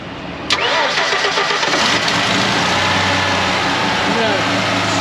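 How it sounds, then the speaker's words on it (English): A 1971 Ford Bronco resto-mod with a supercharged 3.8 liter fuel-injected V6 cranks briefly and fires, then settles into a loud, steady idle close by. "We'll fire up that supercharged V6 and show you some lights working."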